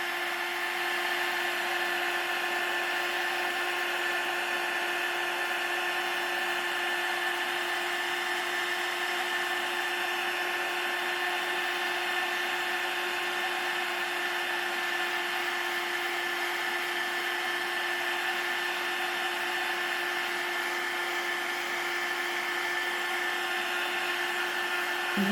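A heat embossing tool blows with a constant, whiny electric hum close by while melting embossing powder on a handmade card, running unbroken throughout with no talking.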